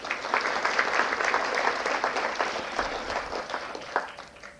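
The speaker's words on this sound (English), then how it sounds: "please give a round of applause for Jaydev." A crowd applauding steadily at a seminar on India-China relations, a dense wash of many hands clapping at once, holding a fairly even level for several seconds before tapering slightly.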